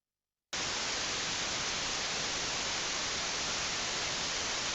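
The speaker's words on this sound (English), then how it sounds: "Okay, that's just some white noise." Steady, harsh white noise switches on abruptly after a short silence and continues at constant level, played alone as an audio demonstration.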